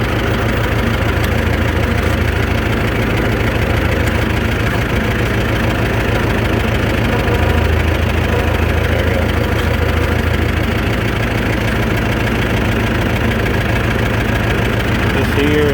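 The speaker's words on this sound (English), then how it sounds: "Alright y'all, tractor update. She is running." A Massey Ferguson tractor engine idles loudly up close, a steady low rumble with a knocking, vibrating texture, with a person talking over it.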